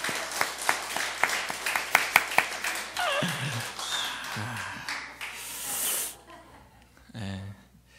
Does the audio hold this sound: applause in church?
yes